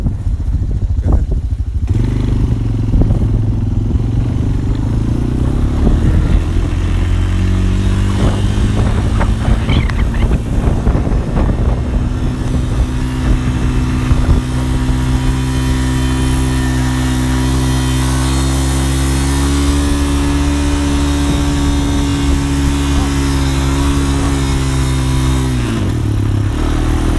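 A Honda 250 TRX quad runs loudly through a blizzard, its engine droning steadily with rising and falling revs and a rattly mechanical clatter, close and constant throughout.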